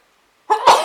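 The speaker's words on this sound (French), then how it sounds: "Je vais éternuer." A single sneeze, close and fairly loud, which bursts out after a moment of silence with a sharp breathy onset and a short trailing release.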